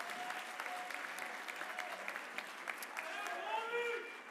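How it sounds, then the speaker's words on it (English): An audience at a school class event applauds with steady, fairly faint clapping from many hands, while a voice talks over part of it. "If we could give them a clap and just say thank you as well."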